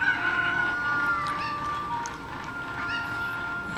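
A chicken in The Legend of Zelda: Ocarina of Time on the N64 clucks and squawks over steady background game music, with no one talking.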